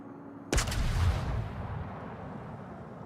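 A single heavy naval gun blast from a ship in World of Warships, a sudden sharp boom that rolls into a low rumbling decay lasting a couple of seconds, loud and close.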